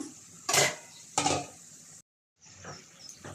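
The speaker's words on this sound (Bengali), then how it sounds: "ঢাকাটা উঠিয়ে নিলাম।" A lid comes off a pot of vegetarian curry with two sharp metallic clanks close by, then a short silence and a soft sizzle from the open pot.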